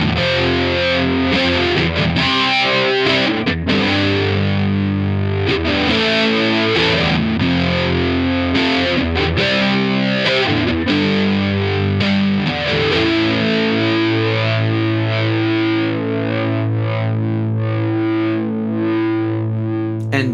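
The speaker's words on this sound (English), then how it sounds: "flanger first, and you're basically filtering what goes into the distortion pedal" Electric guitar played through an EHX Deluxe Electric Mistress XO flanger placed before a distortion pedal, giving a loud, continuous distorted tone with a subtle swirling sweep across sustained chords, with no talking.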